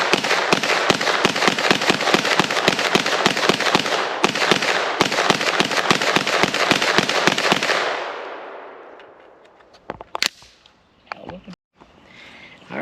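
A Beretta PMX-S submachine gun empties a magazine at an outdoor range: loud, sharp shots in a rapid, regular string for about eight seconds, then stopping, followed by a few faint clicks and handling noises.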